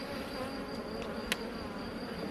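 A honeybee colony buzzing inside the hive, a steady faint hum with a brief tap partway through and no talking.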